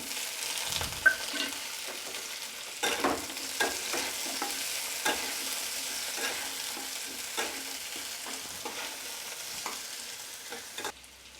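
Chopped red tomatoes are tipped into browned onions in a hot pan for matar paneer, giving a steady close sizzle broken by intermittent spoon scrapes and stirring knocks, with no voices.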